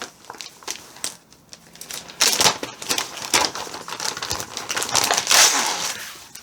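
Plastic packaging crinkling and crackling as a parcel of cross-stitch Christmas gifts is opened, a run of sharp rustles that grows busier and louder after the first couple of seconds, close by with no talk.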